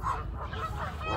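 Swans at Kew Gardens give a close, nasal honk over low rumbling background noise, a brief call with no talking.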